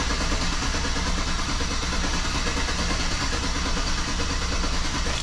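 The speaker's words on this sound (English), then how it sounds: "See how she doesn't start? Just cranks and cranks and cranks." A GM 5.3 V8 cranks without catching, producing a steady, dense mechanical churn that runs unbroken at close range for the whole stretch, with no voices.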